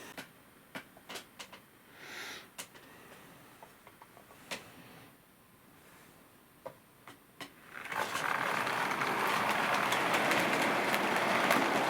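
Model train hauling weighted open wagon vans along a layout, with light rhythmic ticking and clicking of wheels over rail joints that gives way to a steady, louder rolling rush in the final seconds, with no talking.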